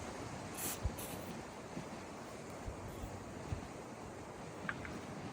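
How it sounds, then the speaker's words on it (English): Outdoor wind on a warm day near a 1957 Chevy 4x4, a steady broad rushing and buffeting against the microphone with a few soft thumps, continuous and moderately faint with no speech. "It's a little windy today"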